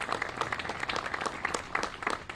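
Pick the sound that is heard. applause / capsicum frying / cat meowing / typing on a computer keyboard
applause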